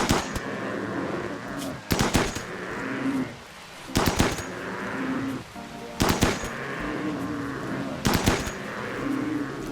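Gunfire in the video game RimWorld during an execution-style attack on a hunted animal, with five sharp bursts of shots spaced about two seconds apart over a low rumbling background.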